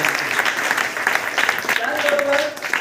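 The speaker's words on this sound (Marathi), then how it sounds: "टाळ्या" An audience at an educational aid ceremony applauds a student prize winner, steady crowd clapping of moderate loudness with a brief tonal sound and faint voices mixed in.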